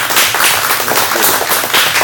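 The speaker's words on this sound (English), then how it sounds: "let's give it a big round of applause" A round of applause at a district board meeting, loud and continuous clapping from a roomful of people for about two seconds.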